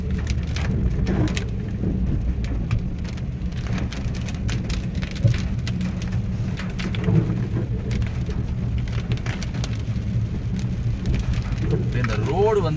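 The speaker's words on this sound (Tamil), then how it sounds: "ஆனால் நம்மளை எதிர்பார்க்காத விட அதிகமான கனமழையை நம்ம பார்க்க முடியுது." Heavy rain pours onto a forest road in Karnataka, a dense, steady, loud hiss of drops hitting the surface throughout, with occasional low rumbles and faint voices in the background.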